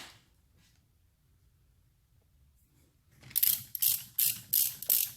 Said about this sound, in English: That's the socket making that noise.